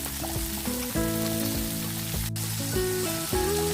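Chopped carrot goes into a hot pan for Chinese paneer with vegetables, giving a soft, steady sizzle and crackle that stays low and even, with faint kitchen clatter beneath.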